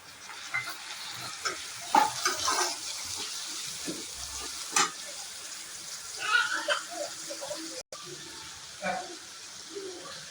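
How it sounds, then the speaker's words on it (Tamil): Chopped tomatoes frying with onions in a pan, for an eggplant chutney, give off a steady sizzle broken by stirring scrapes and clatter, with occasional louder clinks. No one speaks. "வெங்காயம் நல்லா வதங்கிடுச்சு கட் பண்ணி வச்சுருக்க தக்காளியும் சேர்த்துக்குங்க"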